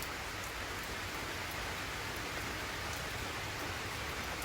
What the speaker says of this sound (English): It's raining pretty hard out.